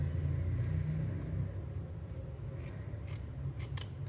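Scissors cut through a sequin-decorated lace band, giving a soft, close snipping and rubbing with a low background rumble. A few sharper snips cluster toward the end.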